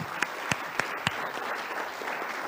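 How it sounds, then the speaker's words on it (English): Faint applause from a conference audience for the speakers and panelists at MSF Paediatric Days 2024, starting with a few distinct claps and then settling into a soft, low wash of clapping. "A big round of applause for all of our speakers and our panelists here today."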